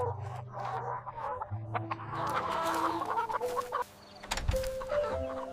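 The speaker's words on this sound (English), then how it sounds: "The chickens ate slowly and calmly in the soft evening light." Laying hens on a countryside farm cluck and murmur softly as they eat in the evening, giving close, uneven calls with brief pauses and a few louder squawks.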